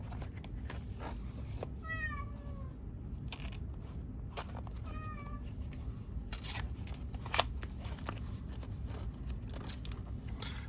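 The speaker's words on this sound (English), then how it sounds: "Ignore my cat." A house cat meows twice, a few seconds apart, close by, over a folding knife being handled, its blade and ceramic ball-bearing pivot clicking and scraping faintly throughout.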